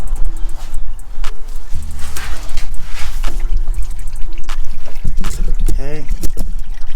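Engine oil drains from a car's drain plug in a steady liquid pour and trickle, with clanking and handling noises over a low hum.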